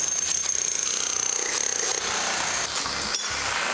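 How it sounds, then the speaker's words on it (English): A power jackhammer tears up a wood floor glued down for years during a home renovation: a loud, continuous, rapid mechanical hammering up close, with no voices. "using that power jackhammer thing to get the wood floor up, and it was glued down for years and years"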